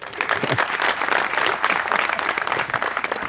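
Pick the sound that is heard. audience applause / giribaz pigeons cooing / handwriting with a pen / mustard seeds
audience applause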